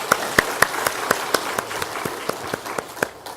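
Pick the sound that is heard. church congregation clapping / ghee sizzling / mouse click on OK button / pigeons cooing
church congregation clapping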